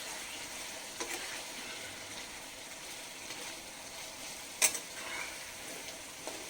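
Desi chicken curry sizzling and frying in a pan with chopped coriander leaves, a steady hiss with a few soft clinks as it is stirred.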